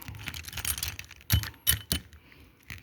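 Metal action figures clank together in a few sharp knocks, with softer rattling and handling noise in between, close by.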